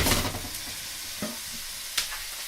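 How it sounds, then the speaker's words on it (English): Chopped meat sizzles steadily in an oiled pan, a broad hiss throughout with a louder burst at the start and a couple of brief clinks or stirring scrapes, no voices. "we throw the meat in, and it's going to make a loud sizzling noise"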